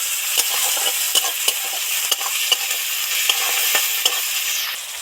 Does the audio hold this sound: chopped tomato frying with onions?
yes